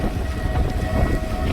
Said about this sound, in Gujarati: આ ટ્રેનનો અવાજ સંભળાય